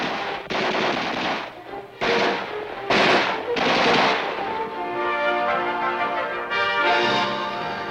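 Gunfire from a military tank crew qualification firefight on a maneuver training area, heard as loud, dense bursts of shots rolling into a sustained rattle with echoing tails, no talking.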